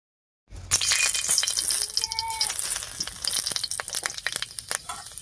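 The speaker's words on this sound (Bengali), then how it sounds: "এবারে তেজপাতা শুকনো লঙ্কা আর পাঁচফোড়ন দিয়ে ফোড়ন দেবো" Bay leaf, dried red chili and panch phoron drop into hot mustard oil and burst into a loud, crackling sizzle that keeps popping and spitting steadily, close up, with no talking over it.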